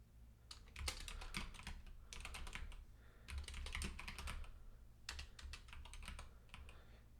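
Rapid bursts of clicky computer keyboard typing while Java code is written for a coding problem, close and steady, with brief pauses between flurries of keystrokes and a faint low hum beneath.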